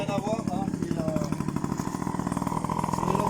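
A 1977 Honda Camino moped engine runs close by with a steady mid-pitched putter, persisting under someone talking over it throughout.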